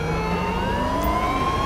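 A sheriff patrol car siren in the video game GTA V wails loudly and steadily, its rising and falling electronic tone sweeping continuously with no voices over it.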